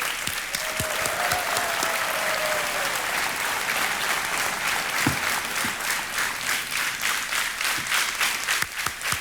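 Studio audience on the KBC game show applauding a contestant, a loud, steady wash of clapping that fills the whole stretch, with a brief whistle near the start.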